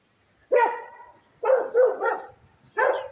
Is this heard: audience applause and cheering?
no